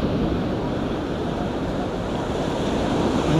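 Ocean waves wash steadily onto a beach in a continuous roaring surf, close and loud, with wind buffeting the microphone throughout and no voices.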